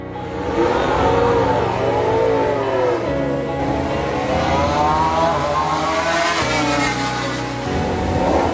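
MotoGP bikes lap the Mandalika circuit in Indonesia during a test session, engines howling continuously as they rise and fall in pitch through gear changes, loud and close with overlapping machines passing.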